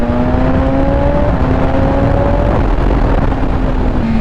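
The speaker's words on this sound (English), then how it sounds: "I can get a fistful of that throttle and I know how the bike's going to handle." A BMW S1000RR sportbike accelerates hard under open throttle, its engine note climbing in a loud, continuous, rising whine that fills the whole stretch without any talk.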